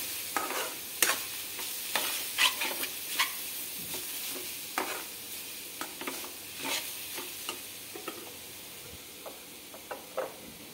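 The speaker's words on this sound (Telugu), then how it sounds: "ఇప్పుడు ఒకసారి కలుపుకుందాము." Curry frying in a pan is stirred with repeated clicking scrapes of a spoon, quick taps at an uneven rhythm over a soft steady sizzle, close and fairly quiet.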